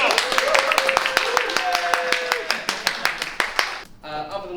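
An audience at a championship event gives a round of applause: dense, steady clapping with a voice talking over it, ending abruptly near the close.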